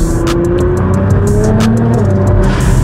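An 840bhp stage 5 Nissan R35 GTR engine revs loudly and close, a sustained rising roar with a clear tonal whine over a rough low rumble.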